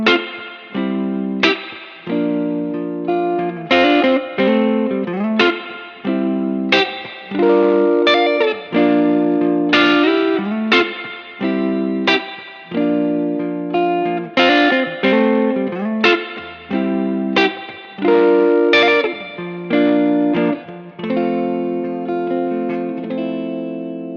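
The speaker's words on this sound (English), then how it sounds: "let you guys hear each pickup position completely isolated through an amp that's just teetering on the edge of breakup" A Knaggs Kenai electric guitar played through an amp on the edge of breakup with a touch of reverb, strummed chords and picked notes ringing out alone in a steady rhythmic pattern, loud and close.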